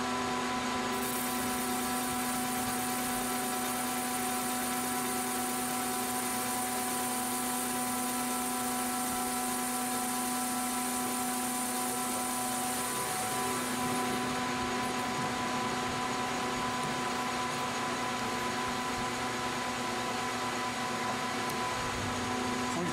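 A milling machine takes a light skim pass on the metal tines of a pork-pulling tool with a new cutting insert, a steady whine with sustained tonal hum and a high-pitched cutting note that stops partway through, with no talking.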